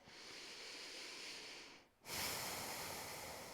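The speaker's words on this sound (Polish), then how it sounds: "Zacznijmy oddychać przez nos" Slow, steady nasal breathing during a beginner yoga breathing exercise: a long, soft airy hiss that fades briefly near the middle and then returns with a fuller breath. Close and quiet, with no talking.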